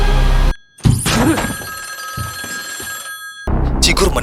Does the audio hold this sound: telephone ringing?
yes